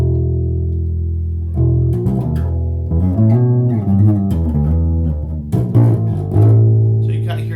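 An Ibanez SRX 700 bass guitar plays a clean tone, with a string of deep, sustained notes moving through a short riff, loud and close. Brief higher string clicks come between some of the notes.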